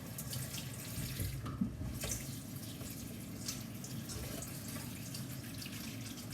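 Tap water runs steadily into a sink while fresh marjoram is washed, a continuous close rushing splash with faint drips and no voices.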